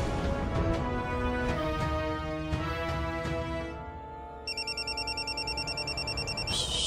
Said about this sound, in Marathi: शालिनी मॅडमचा फोन.